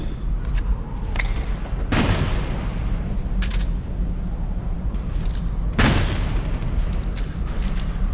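Explosions in the online shooter Metal Gear Online on the Groznyj Grad map, where two loud booming grenade blasts burst about four seconds apart through a steady rumble of gunfire and battle noise.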